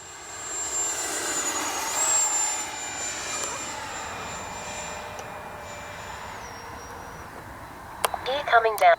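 A Freewing F-22 Raptor 80mm electric ducted-fan RC jet flies an evening sortie, giving a steady airy whine with a slowly shifting tone that holds for several seconds, ending in a few sharp clicks.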